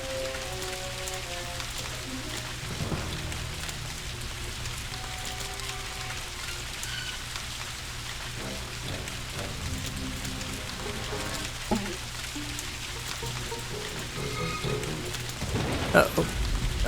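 Steady rain falling in the haunted-house strategy game Ghost Master, a continuous dense hiss of raindrops throughout with faint low rumbling and brief game effects beneath.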